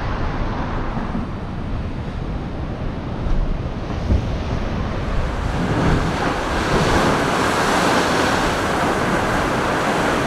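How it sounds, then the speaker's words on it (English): Ocean waves surging against coastal rocks at high tide near a blowhole on the southern Oregon coast, a continuous loud wash of surf building toward the end, with wind buffeting the microphone. "I hear there's a blowhole that pushes water out of a formation on the rocks on high tide"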